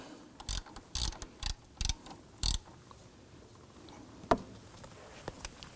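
A ratchet with a 12mm socket loosens the alternator adjuster bolt on a 2.5L Subaru Legacy, giving five or six sharp, close clicks in quick succession before falling quiet, with a single faint tap later and no talking.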